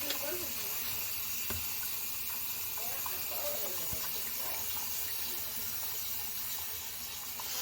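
Water trickles and hisses from a cracked sink drain return pipe, a constant close hiss with faint drips and a voice briefly speaking nearby.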